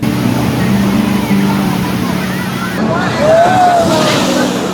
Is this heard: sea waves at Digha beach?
yes